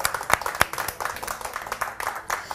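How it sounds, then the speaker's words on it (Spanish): A television studio audience applauds on a Saturday-night talk show, a bright patter of many hands with a couple of sharp nearby claps early on, steady and moderately loud. "Merece un aplauso."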